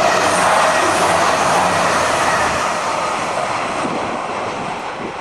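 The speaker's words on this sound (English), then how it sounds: "That was another express going to Kettering, Leicester, Nottingham, maybe possibly up to Leeds" An express train bound for Kettering, Leicester and Nottingham rushes past at Nielsons Sidings near Harrowden with a loud, continuous broadband roar that tapers off gradually.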